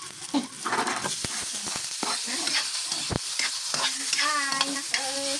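Vegetables stirred and fried in a hot pan, with steady sizzling and repeated sharp scrapes and clacks of the utensil against the pan, close and busy throughout; brief faint voice near the end.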